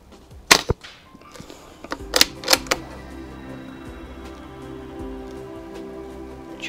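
Walther Rotex RM8 air rifle firing pellets outdoors, a few sharp close cracks spaced about a second apart, one alone and then three in quick succession, without talk.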